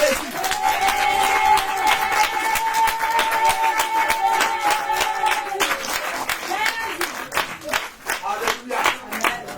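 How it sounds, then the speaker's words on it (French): A church congregation at a prayer and deliverance service in Abidjan bursts into loud, sustained applause and clapping, mixed with cheering voices and a held sung or shouted tone, for nearly ten seconds. "On va acclamer Jésus"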